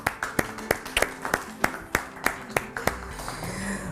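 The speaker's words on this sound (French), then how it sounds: "on va applaudir pour les Soumaoro." Audience at a televised couples cooking contest claps in a sparse, distinct rhythm of about a dozen sharp hand claps, some louder than others, trailing off into a faint room hum.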